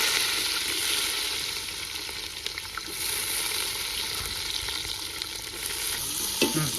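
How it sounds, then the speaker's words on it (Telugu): Onions and green chilies fry in hot oil and are stirred constantly in a pan, producing a loud, continuous sizzle with occasional utensil scrapes and clicks. "ఉల్లిగడ్డలు పచ్చిమిర్చి వేసుకున్న తర్వాత ఇట్లా మాడిపోకుండా మంచిగా కలబెట్టుకోవాలి"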